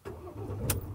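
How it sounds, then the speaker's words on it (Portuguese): A 2022 Ford Transit diesel van starting up, a short cranking burst that catches into a low engine rumble, close and moderately loud. "Vamos dar a partida aqui então e ver qual que é."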